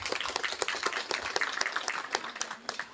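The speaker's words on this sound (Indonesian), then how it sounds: "Untuk tahun ini kita berikan aplaus" Audience applause at a school farewell ceremony at SMK Darul Hidayah: dense, steady clapping from many hands that swells and dips over three seconds, close and fairly loud.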